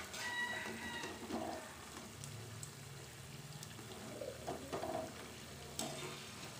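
Chicken and potato snacks deep-frying in hot oil make a low, bubbling sizzle, broken by a few sharp clinks and stirring scrapes, with no talk.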